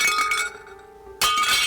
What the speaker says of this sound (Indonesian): Abu Nawas dengan tenang dan leluasa memukul kaca itu hingga pecah.